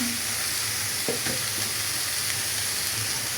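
Green chillies and a little salt hit hot oil in a frying pan where a fish-roe and stalk-greens fry is cooking, giving a steady close sizzle with a soft stirring scrape partway through.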